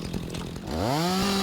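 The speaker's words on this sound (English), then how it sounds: "Just run around with the chainsaw" A chainsaw in the video game Rising World idles with a rough, rapid chugging, then revs up partway through into a rising, sustained whine that stays loud and close until the end.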